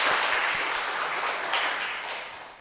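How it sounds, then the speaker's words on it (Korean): A church congregation applauds the accompanist, a dense, steady patter of many hands filling the room and slowly tapering over a couple of seconds, with no voices. "우리 반주사님 한 번도 인사를 못했는데 감사하다고 박수 한번 합시다"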